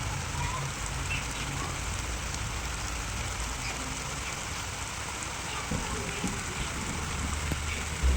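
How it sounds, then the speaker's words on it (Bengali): Steady rain falls evenly throughout, a soft continuous hiss with faint drips, with no voices heard. "কি সুন্দর লাগছে না বৃষ্টি পড়ছে"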